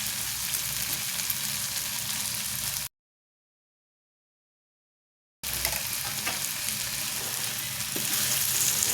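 Ground pork and eggplant stirred in a hot pan with shrimp paste, a steady close sizzle with scraping stirs, broken by a gap of silence partway through.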